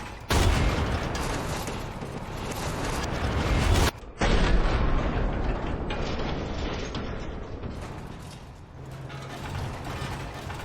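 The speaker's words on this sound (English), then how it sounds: "Now let's test out the cannon." Cannon on the left arm of a weapon in Resident Evil Village firing: heavy booming blasts with grinding mechanical clatter, a brief drop near the middle, then continued rumbling fire that tapers slightly, with no talk.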